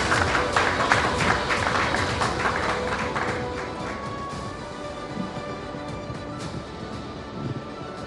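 Audience applause welcoming Himachal Chief Minister Sukhwinder Singh Sukhu at a News18 India Chaupal event, a crowd clapping steadily, louder at first and then thinning out over several seconds, with a faint voice underneath.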